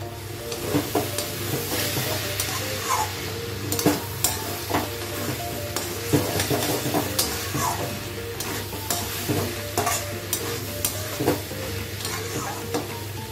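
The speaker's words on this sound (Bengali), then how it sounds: "এক চামচ ঘি দিয়ে দিলাম" A spoonful of ghee sizzles in a pan while a utensil stirs and scrapes, cooking banana stem, producing a continuous frying hiss broken by frequent clicks and knocks of metal on the pan, close and alone.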